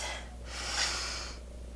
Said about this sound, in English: Jabari took a deep breath